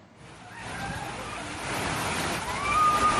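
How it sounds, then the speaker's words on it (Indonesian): Heavy rain and strong wind lashing villages in Klaten, Central Java, a dense, steady roar of rain with gusting wind that swells louder over a few seconds, with no voices heard. "Hujan deras disertai angin kencang melanda 18 desa di 12 kecamatan di Kabupaten Klaten, Jawa Tengah."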